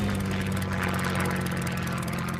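A helicopter engine and rotor drone steadily, a continuous loud whirring hum with a rhythmic pulse, close and unbroken throughout.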